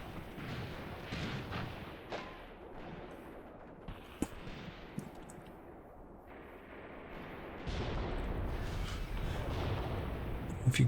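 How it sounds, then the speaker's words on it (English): A tank main gun fires in the Graviteam Tactics war game, a few sharp distant cracks and booms standing out over a steady rumbling battlefield background. "you just fired your main gun, I saw you"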